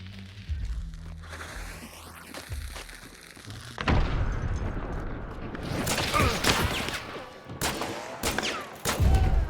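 Gunfire in the Hunt Showdown video game, several sharp shots and impacts ringing out in a chaotic burst, with a loud flurry of cracks and thuds in the latter half over a busy, rumbling background.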